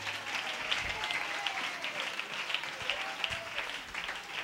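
Members of a church congregation clap together during a service, a busy, sustained applause with distinct claps popping out of the mix, fairly close and with no speech over it.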